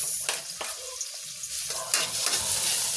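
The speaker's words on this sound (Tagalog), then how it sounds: "Nagisa na siya ng bawang. Ginisya niya isa-isa yung karne." Garlic and meat sautéing in a pan, a steady close sizzle with a few scraping stirs of a utensil against the pan, no talking.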